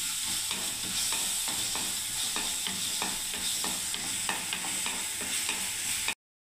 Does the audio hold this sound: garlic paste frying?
yes